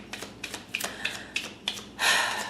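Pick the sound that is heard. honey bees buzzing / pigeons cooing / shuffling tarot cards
shuffling tarot cards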